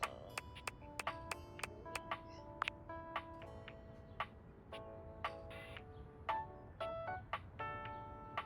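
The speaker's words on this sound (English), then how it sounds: "there was a notification" Notification chimes from the video game Date Everything!: a steady run of bright, quiet electronic pings and tones that repeat one after another with no talking.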